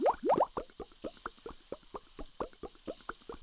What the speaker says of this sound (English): Vinegar and baking soda produce carbon dioxide bubbles which float in water.